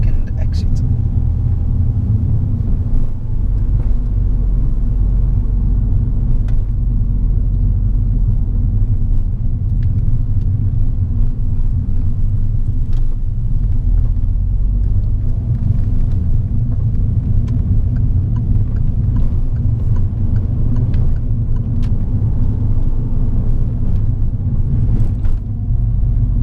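A manual car drives on a road during a driving lesson. Its engine rumbles steadily and fairly loud throughout, with low road noise and occasional faint voices underneath.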